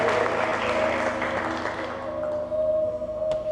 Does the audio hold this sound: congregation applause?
yes